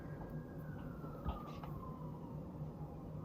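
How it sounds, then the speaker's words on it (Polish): An ambulance siren sounds faint and far off, one long, slowly falling wail over a steady background hum. "O, karetka."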